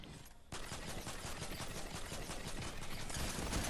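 A primitive pistol fires in rapid bursts in the video game Fortnite, producing dense, continuous crackling gunshots that start abruptly and hold a steady, loud level throughout.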